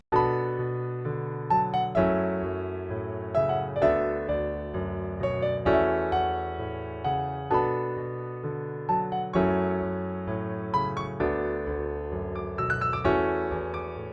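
A bright, high piano melody played in a steady rhythm over lower chords, notes ringing and decaying one after another, close and clear with no talking.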